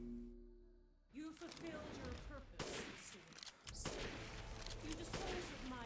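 Gunfire aimed at Miranda's legs during a boss fight in Resident Evil Village. Loud, dense bursts of shots and booming impacts after a quiet opening, with several abrupt blasts and a brief pause midway.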